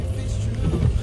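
A car engine hums low and steady in the background, a continuous droning rumble running under the whole moment with slight swells toward the end.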